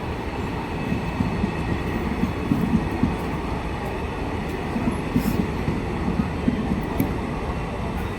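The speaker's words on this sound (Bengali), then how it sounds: "এদিকে একটি ডিএমইউ এসে দাঁড়িয়ে আছে" A DMU diesel train idles at Murshidabad Junction station platform, a steady low rumble and engine drone throughout with faint metallic clicks, fairly close and without talk.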